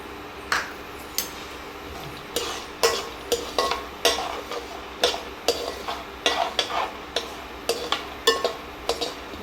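Peanuts and cumin seeds fry in a pan with a continuous sizzle, while a spoon scrapes and clinks against the metal in irregular knocks throughout, near and clear.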